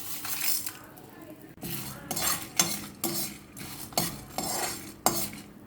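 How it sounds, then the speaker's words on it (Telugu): Lentils and spices dry-roasting in a pan for rasam powder, stirred with a metal spoon that scrapes and clinks against the pan in repeated bursts about every half second to second, with a faint crackle between the strokes. "ఒక్క చుక్క నూనె వేసుకొని ఈ సరుకులన్నీ వేసేసి వేయించుకోవాలి"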